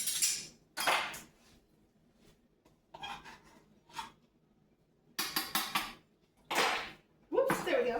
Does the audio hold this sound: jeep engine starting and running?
no